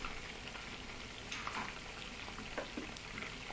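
Chicken pieces fry in a pan with a steady, dense sizzle and crackle throughout, with a few slightly louder pops standing out near the middle of the stretch.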